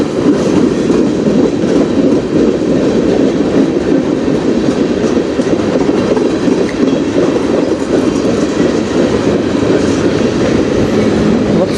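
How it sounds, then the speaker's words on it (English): A long train rumbles steadily past on the rails, loud and continuous, with rhythmic clacking of wheels over track joints throughout. "Looks like a pretty long train."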